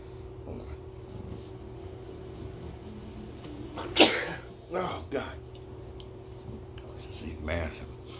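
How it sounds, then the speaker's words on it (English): A couple of short, sharp sneezes burst out over a steady low hum, with a softer sneeze-like noise following a few seconds later. "Sneezing."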